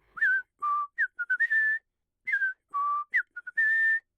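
A person whistles to imitate wheezing breath, a run of bright, musical pitched whistles in short bursts and sliding tones, close and clear with no talking.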